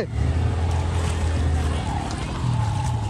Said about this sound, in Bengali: আর এই সাইড দিয়ে নৌকা করে আসছে